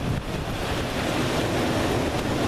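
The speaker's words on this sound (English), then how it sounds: "cloudy, raining, and windy" Steady wind roars and buffets the microphone in cloudy, rainy weather, with a continuous broadband rush carrying rain, no voices present.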